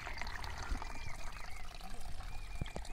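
Continuous close gurgling and pouring of water near Ambewadi waterfall in the Sahyadri hills, a steady bubbling wash with a few brief knocks and faint voices underneath.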